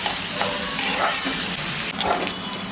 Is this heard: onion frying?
yes